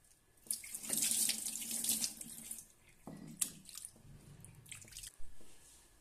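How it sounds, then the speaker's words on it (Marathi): New stone mortar and pestle being washed under a running tap, water gushing and splashing in bursts with drips and wet scrubbing between, close and fairly quiet, no voices. "आता परत आपण हे धुवून घेऊया"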